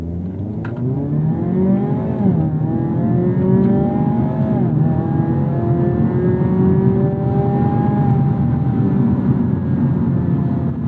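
A 2025 Hyundai Elantra N with a dual-clutch transmission accelerates hard in Sport Plus mode with N Grin Shift. The engine roars loud and close, its pitch climbing through successive gears with brief dips at each shift, and no one speaks.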